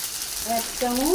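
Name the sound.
ginger paste frying in oil with cumin and bay leaf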